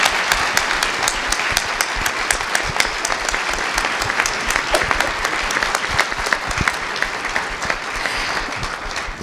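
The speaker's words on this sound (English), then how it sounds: "Can we give a round of applause to our panelists?" A conference audience applauds its panelists with loud, dense clapping that stays full and continuous throughout, with a few sharper claps standing out close by.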